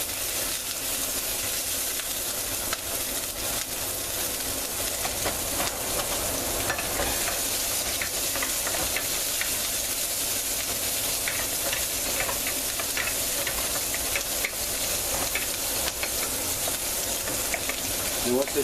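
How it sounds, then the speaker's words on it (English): Onions sautéing in olive oil in a pan, a steady close sizzle with occasional stirring scrapes that runs unbroken throughout, with no talking over it. "I'm going to saute the onions until they're translucent."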